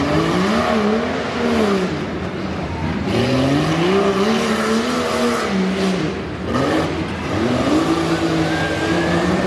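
Jeep Cherokee tearing around a tough truck race course, its engine loud and close, revving up and down in rising and falling sweeps with brief lulls between throttle bursts.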